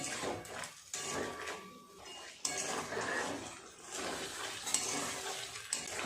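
Chicken with spices for nihari fries in a pan while being stirred, with quiet clinks and scrapes of a utensil against metal over a low sizzle, with a few louder knocks.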